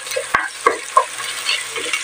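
Garlic and onion sizzle in hot oil in a pan while a utensil stirs them, giving several close scraping knocks over a steady frying hiss.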